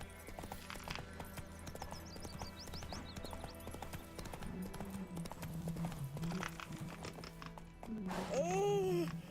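Horse in The Witcher 3 trotting with steady clip-clop hoofbeats, snorting and ending in a loud whinny, alongside faint game music and brief character speech.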